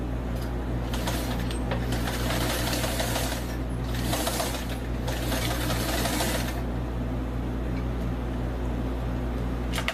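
An old sewing machine stitching a dress for an 18-inch doll, a continuous close mechanical hum with a rapid needle rattle that runs steadily throughout, with brief bursts of louder whirring in the middle.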